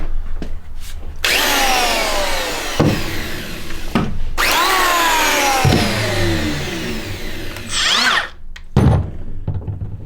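A Makita 18V cordless planer, model XPK02Z, whirs loudly through several bursts, each followed by a falling whine as the brakeless cutter head spins down, with short gaps of quiet between runs.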